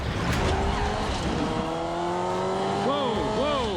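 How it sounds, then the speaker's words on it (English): A black sedan swerves into oncoming lanes and sideswipes a passing white car in a traffic crash, heard as continuous road and engine roar with rising tire-like squeals and sweeping tones near the end, under excited voices. "as the black sedan veers into oncoming lanes, it sideswipes a passing white car"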